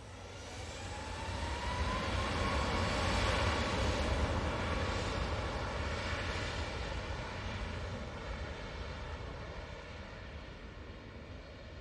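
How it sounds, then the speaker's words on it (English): Ryanair Boeing 737 MAX 8 jet departing from Manchester Airport for Rome, a loud, steady engine roar that builds over the first few seconds, peaks, then slowly recedes with a faint whine sweeping through it. "Ryanair. 737 MAX 8. They're going off back to Rome."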